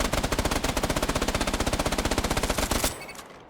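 The Enforcer gun in the Off the Grid video game fires a rapid, evenly spaced automatic burst at close range for nearly three seconds, then stops abruptly and leaves a brief fading tail.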